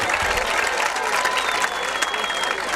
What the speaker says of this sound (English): One more round of applause for our 8th grade middle school band.